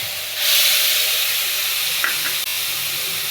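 Tomato paste, after cumin powder, hits hot oil left from frying dhoka, bursting into a loud hissing sizzle that holds steady, broken by a couple of brief utensil clicks, no voices.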